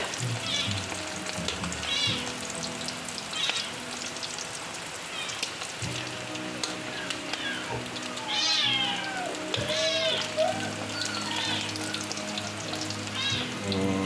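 A cat meows several times in short rising calls over a steady sizzle of food frying, with clinks and stirring sounds in a kitchen setting; no talking.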